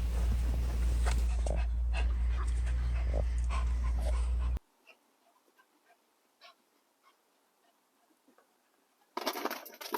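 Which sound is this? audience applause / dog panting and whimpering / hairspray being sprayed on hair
dog panting and whimpering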